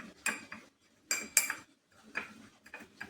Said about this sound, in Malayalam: അര ടീസ്പൂൺ ഉപ്പ് ഇത് രണ്ടും കൂടി നമുക്കൊന്ന് നന്നായിട്ടൊന്ന് മിക്സ് ചെയ്തെടുക്കാം